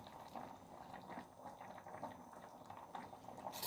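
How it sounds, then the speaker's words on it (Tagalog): Pasta and vegetables boiling in a pot make a steady bubbling and churning of water, close and moderately quiet, with no voices. "dito inantay lang talaga na siya ay kumulo"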